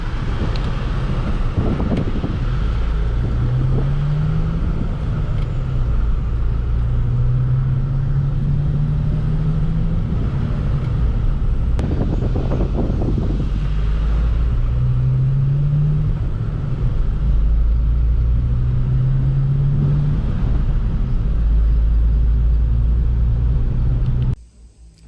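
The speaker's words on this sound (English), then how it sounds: "So there it is, running, driving with no issues, no leaks, no weirdness." An 8th-generation Honda Civic Si running and driving after repairs, heard as a steady low engine drone with rising and falling tones as it shifts through gears, mixed with road rumble and wind noise, until it cuts off at the end.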